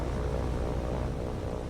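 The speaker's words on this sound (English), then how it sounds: "They sent a plane!" An airplane approaches in the naval combat game War on the Sea as a steady, droning engine hum, even and moderately loud throughout.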